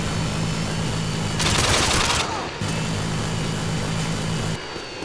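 An airstrike in Call of Duty Modern Warfare: a sustained roar of aircraft and a dense burst of gunfire for about a second, over a steady droning hum of combat ambience.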